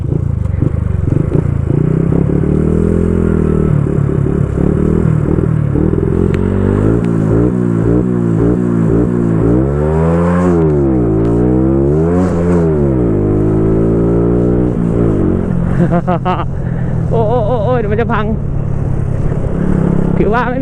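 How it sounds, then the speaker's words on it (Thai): A car pulls away hard from a standing start, its engine revving up loudly through rising pitch sweeps with a gear change partway, heard from inside while someone talks over it. "เดี๋ยวผมออกตัวโชว์ไปหนึ่งที"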